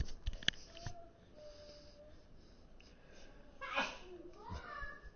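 A single sharp sneeze bursts out near the start, followed later by sniffing and breathing noises, with a person talking quietly in the background.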